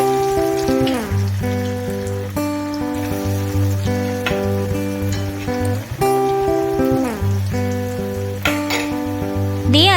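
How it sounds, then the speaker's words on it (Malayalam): Chicken pieces deep frying in oil, a close, continuous bubbling crackle with steady pops, alongside a humming tonal background. "കുറച്ച് പീസസും കൂടെ ബാക്കി ഉണ്ടായിരുന്നു അതും കൂടെ ഞാനിവിടെ പൊരിക്കുന്നുണ്ട്"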